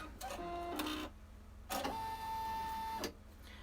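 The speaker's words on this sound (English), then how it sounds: "we will go ahead and stitch the placement line for the tab for the bottom" Embroidery machine stitching the placement line for a zippered key fob tab, two bursts of rapid mechanical whirring with steady tonal hum, separated by a short pause, close and fairly loud.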